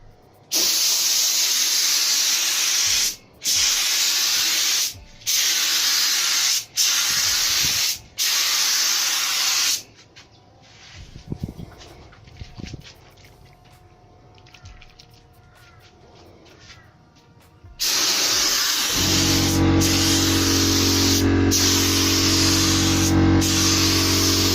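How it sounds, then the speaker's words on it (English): A spray gun lays primer across a car bonnet during rodeo hood prep: loud, close hissing bursts in several short passes, a quieter gap with handling noises, then one long continuous spray. "and I'll prime the rest of the bonnet."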